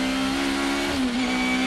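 Front-wheel drive BTCC touring race car engine held at a steady, loud, near drone with a strong sustained tone that dips briefly in pitch before settling again, continuous with no pauses.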